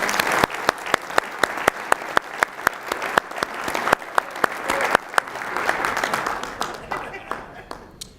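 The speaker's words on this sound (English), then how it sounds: "I think that deserves a round of applause too." Audience applause at a school district's State of the Schools 2019 address, a dense wash of clapping with sharp individual claps standing out, sustained for several seconds before gradually thinning and fading.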